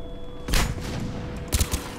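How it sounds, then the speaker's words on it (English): Explosion and bursts of gunfire in Mass Effect 3 combat: a loud blast at mid-clip, then a cluster of sharp, close gunshots near the end, over a steady game background. "Explosion."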